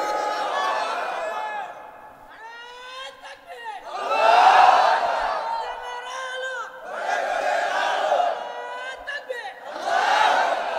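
Large crowd shouting the takbir chant Allahu Akbar in loud, rising waves of voices that swell and fade several times in turn with a lead caller at a religious sermon gathering.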